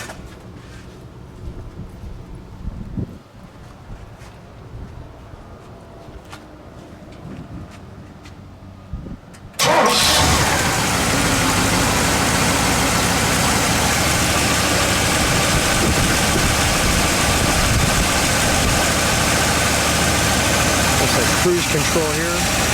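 A 1967 Oldsmobile 98 convertible sits quietly while people talk, then its engine fires up abruptly and settles into a loud, smooth, steady idle close by.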